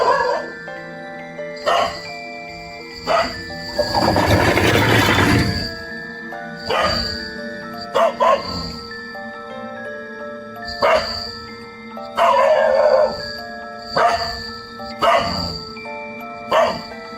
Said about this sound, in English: His neighbor's pet dog suddenly came in front of his house and started barking aggressively